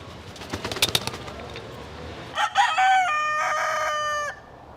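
A fighting rooster crows loudly and close in a long drawn-out call, after scattered clucks and bird calls from other fowl in the background, at a cockfighting area in Panama.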